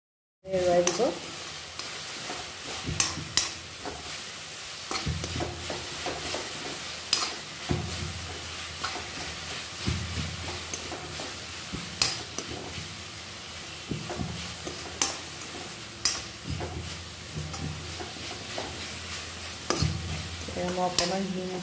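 Grated coconut being stirred and fried in a pan over high flame for coconut chira, the spatula scraping repeatedly in an uneven rhythm over a steady close sizzle, with no talk.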